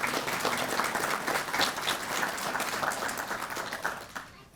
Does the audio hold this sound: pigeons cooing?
no